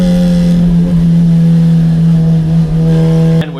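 A Honda Civic drag car at high speed on a road course, its engine a loud, steady drone that holds on and then drops away abruptly at the very end as it cuts out.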